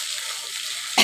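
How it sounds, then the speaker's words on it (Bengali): Loitta (Bombay duck) fish frying in oil in a kadai gives a steady, close sizzling hiss that swells into a louder, brief burst of spattering at the very end. "লটিয়া মাছটাকে আগে আমি ভেজে নিচ্ছি"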